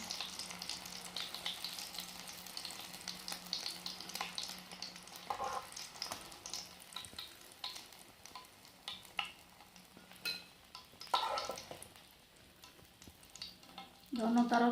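Golden chicken for a zinger burger sizzles steadily in frying oil at moderate loudness. Occasional clinks and scraping from stirring or turning the pieces break through the continuous hiss.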